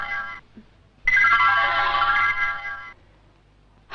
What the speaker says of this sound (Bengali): ম্যাডাম, আপনার ফোন।